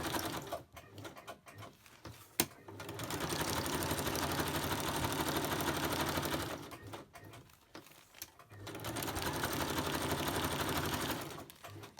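A sewing machine runs in two long stitching bursts, a fast steady mechanical whir with a rapid rhythmic rattle, separated by a quieter pause.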